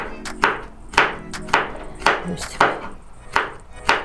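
A knife chops through a bell pepper on a cutting board in steady, evenly spaced close knocks, about seven sharp thuds with a soft crunch after each, with no talking.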